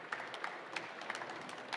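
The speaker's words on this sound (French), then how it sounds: "Je vous propose déjà qu'on applaudisse vraiment Florian pour cette" Audience clapping after a cybersecurity software demonstration at a trade fair stand, a brief burst of applause from a modest crowd, heard at a distance with sharp individual claps standing out.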